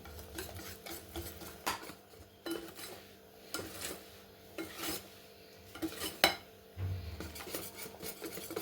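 Cake batter made with apples, beaten in a bowl, gives close, rhythmic scraping and tapping of a utensil against the bowl, with irregular strokes and occasional sharper clinks.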